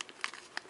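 Crinkly plastic packaging from a Beyblade Metal Fusion set is cut open with scissors, giving a few short, close crackling snips spread over less than a second.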